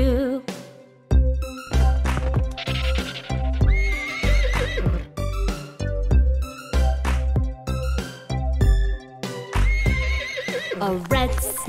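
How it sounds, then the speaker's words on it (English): A sung nursery rhyme about a brown horse features loud, repeated horse neighs and clip-clop hoofbeats woven through bright music. "A brown horse neighs real loud"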